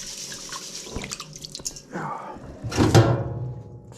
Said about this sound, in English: Just rinse off the murky water